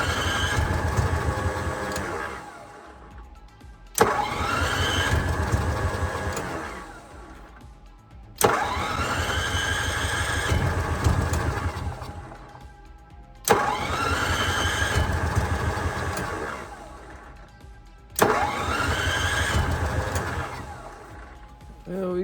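Onan generator engine cranking repeatedly without catching, five long starter bursts of several seconds each separated by brief pauses, loud and close, each burst starting with a sharp onset.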